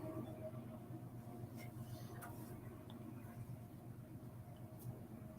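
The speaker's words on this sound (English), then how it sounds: "Train's going by." A low, steady rumble of a train rolling past in the distance, continuous throughout with faint clicks and ticks over it.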